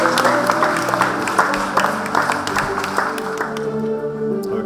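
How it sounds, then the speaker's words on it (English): An audience at a rural training awards night applauds, a sustained wash of many hands clapping that stays loud throughout and tapers slightly toward the end, with a voice faintly over it. "give him a round of applause"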